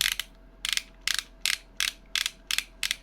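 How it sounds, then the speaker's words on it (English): Eight short bursts of rapid clicking from a plastic toy boat winch ratchet, evenly spaced as it is cranked, fairly close and crisp, with quiet pauses between. "it's going to be in a sort of a ratchet mode, as you can hear the ratchets there"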